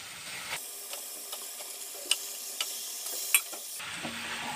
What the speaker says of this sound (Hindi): अभी मैं चिकन को डाल रही हूँ।